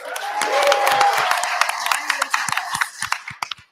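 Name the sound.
audience applause at a board meeting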